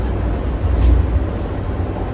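A steady, low droning rumble fills a moving Vande Bharat train carriage in India, constant and unbroken, with no voices.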